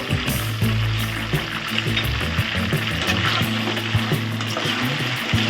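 Eggplant pieces frying with salt in a pan for a stuffed eggplant curry, a steady close sizzle with scraping stir strokes and faint watery crackle throughout, no talking.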